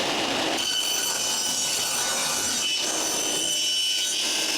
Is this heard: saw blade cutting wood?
yes